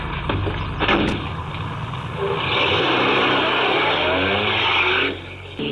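A car drives along on a road in a suspense short, giving a steady engine roar with a rising rush and tire noise in the middle, loud and close, then dropping off at the end.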